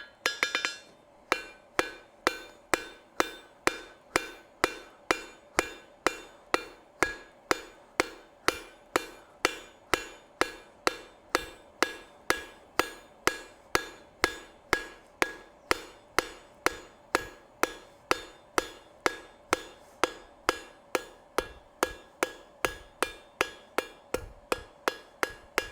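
Hammer blows ring on an anvil while metal is forged, a steady run of sharp, close strikes at roughly two per second, continuing without talk.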